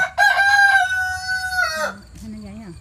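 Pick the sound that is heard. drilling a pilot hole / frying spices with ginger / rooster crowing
rooster crowing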